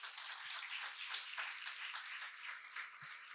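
Applause from an audience at a talk on entrepreneurship, brisk, fairly faint clapping with uneven bursts, steady across a few seconds.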